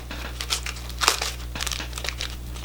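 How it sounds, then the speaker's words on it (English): A package being ripped open with small scissors, giving a short run of close crinkling and tearing bursts of paper or plastic over a steady low hum. "I started to rip that one open"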